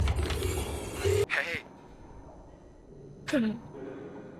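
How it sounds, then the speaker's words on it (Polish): Doors slamming and creaking in the horror game Escape The Backrooms: a sharp thud around one second, then a creaking swing, and a second bang with a creak later, close against a quiet background with faint voices between. "Myśmy obydwoje naraz próbowali zamknąć drzwi"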